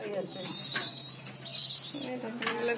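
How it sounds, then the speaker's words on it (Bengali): Pigeons at a nest in a home loft give soft, low cooing that repeats through the clip. A faint voice talks at a distance over them. "অনেকগুলো কবুতর"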